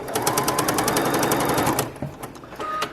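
A sewing machine stitches a quarter-inch seam through folded quilting fabric, its rapid even needle rattle running loud and close for nearly two seconds before stopping, followed by a few faint clicks.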